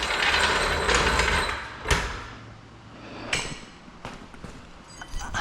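Ratcheting metallic clanks and clicks as a wrench bar checks the lug nuts on a 2010 Hyundai Santa Fe wheel; a few loud, close, uneven strikes and rattles with no speech.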